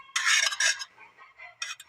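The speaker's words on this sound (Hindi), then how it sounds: "अच्छे से मिक्स कर लेंगे" Boiled, grated potato with chicken mixed for samosa filling: two close, bright scraping and stirring strokes of a spoon against a bowl, then a softer pause and one more brief scrape.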